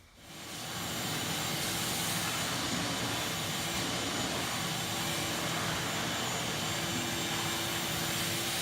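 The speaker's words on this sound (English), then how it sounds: "we're going to vacuum all the little particles off here" A vacuum cleaner starts up and runs with a steady, loud whooshing roar for several seconds, sucking up wood sanding dust between finish coats, no voices.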